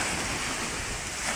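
Rough sea waves in Quezon Province during a typhoon roar continuously, a dense steady wash of surf with wind buffeting the microphone throughout.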